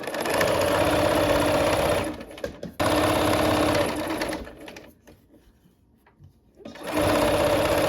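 Sewing machine stitching a quilt block with a loud, steady motor hum, stopping briefly twice and resting quietly before starting up again near the end.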